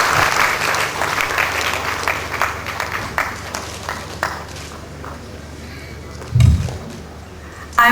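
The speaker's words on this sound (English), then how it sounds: "Can we please welcome him with a huge round of applause?" An audience at an endowment lecture welcomes a guest with a round of applause, dense clapping that thins out and fades over several seconds, with a low thud near the end.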